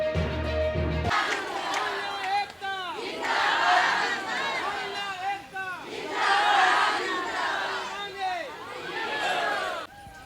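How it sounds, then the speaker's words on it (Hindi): A large crowd of protesting school mid-day meal cooks shouts and chants in loud, surging waves, voices massed together with rhythmic rises and falls close by. "ये जो आप भीड़ देख रहे हैं ये रसोइयों की है"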